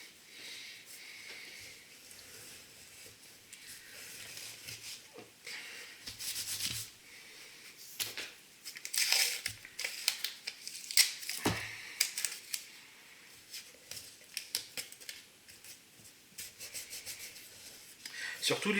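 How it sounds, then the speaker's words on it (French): Soft, irregular rubbing and scrubbing strokes of a cloth wiping a surface, close by and fairly quiet, with a few light knocks in between. "je vais essuyer un petit peu avant"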